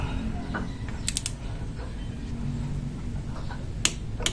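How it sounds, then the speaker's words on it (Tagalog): A torque wrench tightens the oil strainer cap on a Honda Click 125 V3 scooter, giving a few sharp ratcheting clicks and a final loud snap over faint background hum. "higpitan na po natin siya gamit po itong ating torque wrench"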